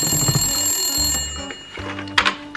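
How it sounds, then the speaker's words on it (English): A telephone rings loudly nearby in a repeating pattern of bell-like tones, with no one talking over it. "Oh! That's the phone!"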